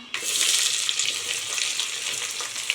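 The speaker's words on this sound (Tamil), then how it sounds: "வெங்காயம் நல்லா பொன்னிறமாக வதங்கட்டும்" Onions frying in ghee with cinnamon and cloves for ghee rice, a steady close sizzle with faint stirring underneath, loud and continuous, no talking.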